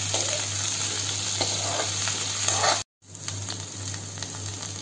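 Okra frying in an open kadhai, a steady close sizzle and crackle of oil with soft stirring scrapes, briefly cutting out for a moment before the frying resumes.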